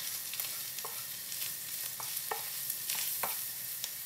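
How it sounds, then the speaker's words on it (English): Thickened gravy for a meat pie being stirred in a pan on a gas hob, soft scraping strokes of a spoon repeating roughly every half second over a faint, steady sizzle, quiet and close. "So we'll stir that in a bit."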